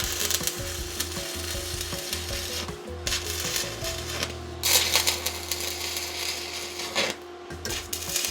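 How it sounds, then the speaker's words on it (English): Arc welding steel tube in a shed: a continuous crackling sizzle with sputtering pops, broken by short pauses between passes and a steady hum underneath. "now I can try and weld around the other 2 sides"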